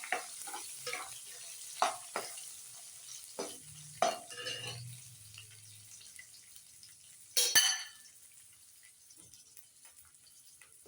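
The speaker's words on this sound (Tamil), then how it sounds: "நல்லா வதக்கிக்கிறேன்" Cumin and pepper sauté in a pan with a thin, light sizzle, broken by scattered spatula taps and scrapes and one brief louder clatter near the end; close and fairly quiet, with no voices.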